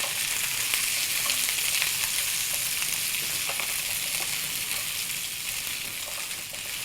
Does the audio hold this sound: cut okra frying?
yes